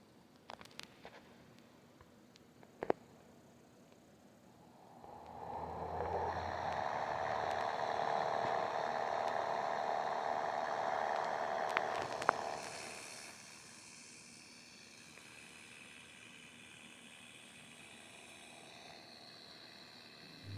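Cessna in the Aerofly FS 2021 simulator taking off from a small runway, its engine droning up into a steady, fairly loud hum before easing down to a quieter drone, with a few scattered clicks.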